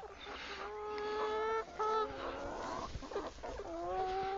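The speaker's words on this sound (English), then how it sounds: "Chickens are always hungry." Hungry chickens in a chicken tractor at a no-dig vegetable garden cluck and squawk close by, with a steady chorus of overlapping calls running throughout.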